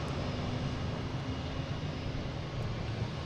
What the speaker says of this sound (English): Here is JetBlue heading to Orlando, an A320, flight 451.